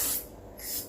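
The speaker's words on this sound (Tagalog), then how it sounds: "So, ito ang spray." A short hissing burst of makeup setting spray from a spray bottle, strong at the start, fading briefly, then rising again in a close, breathy spray with no talking.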